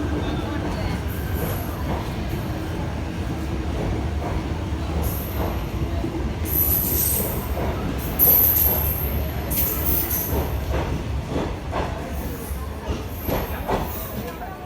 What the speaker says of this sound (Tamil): அங்கிருந்து கோயம்புத்தூர் வரைக்கும் போகிற எக்ஸ்பிரஸ் இது.